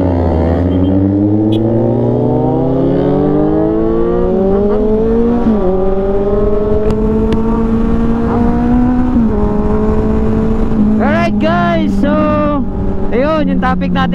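A Yamaha MT-10 motorcycle heard from on board at high speed, its engine climbing steadily through the gears with brief dips at each shift, under constant heavy wind roar; a few sharp clicks and rattles near the end.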